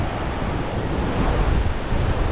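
Strong ocean waves roll in at Boracay beach, a loud, continuous roar of surf close by, mixed with buffeting wind noise on the microphone and no speech.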